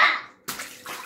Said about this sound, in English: Look at this big splash.